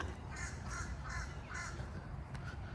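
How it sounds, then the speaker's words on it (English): Crows caw outdoors in about four hoarse calls with short gaps between them, over a steady low rumble of background noise. "There are crows everywhere out here right now."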